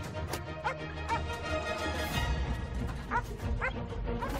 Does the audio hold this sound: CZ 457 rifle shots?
no